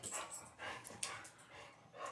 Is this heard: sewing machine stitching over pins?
no